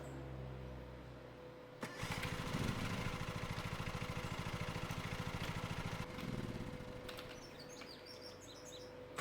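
A ride-on lawn mower engine in Lawn Mowing Simulator sputters to life and settles into a steady, rapid, buzzing putter, then runs on more quietly, with faint bird chirps in the background.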